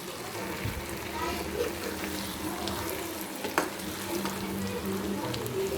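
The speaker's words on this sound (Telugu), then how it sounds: "చక్కగా ఎగ్ బాగా ఫ్రై అయిపోయింది." Egg and onions frying together in a pan, with a steady close sizzle and occasional stirring scrapes, while some voices murmur faintly beneath.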